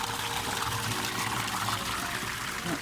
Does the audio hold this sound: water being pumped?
yes